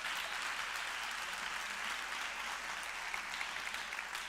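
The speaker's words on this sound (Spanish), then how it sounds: "Aplaudid, aplaudid, no pasa nada, podemos aplaudir" An audience applauds a speaker honored with the Medal of Extremadura, steady dense clapping throughout, fairly distant and even, with no voices above it.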